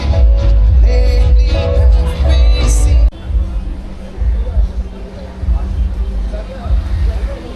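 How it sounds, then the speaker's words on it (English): Crowd chatter on Baga Beach in Goa, a busy murmur of many voices spread across the whole stretch, louder and denser at first, then settling into a steady hubbub with individual voices surfacing close by. "So the crowd is just kicking in, but this is how it is."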